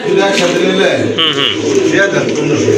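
Lively pet pigeons, local and foreign breeds, coo loudly and close by in rolling, repeated calls while a person's voice mingles with them.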